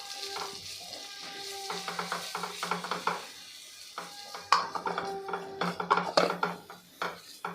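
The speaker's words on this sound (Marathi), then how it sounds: "हे सर्व आपण परतून घेऊ।" Garlic greens, small chopped chillies and ginger paste sautéing in a pan over low heat, a steady sizzle broken by repeated stirring scrapes and utensil clinks, close and fairly loud.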